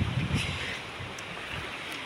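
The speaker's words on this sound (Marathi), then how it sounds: "समुद्र खवाळलाय" Rough water churns at the Koyna backwater on a river, a continuous broadband wash of waves mixed with gusty wind buffeting the microphone, heard close and fairly loud with no talking.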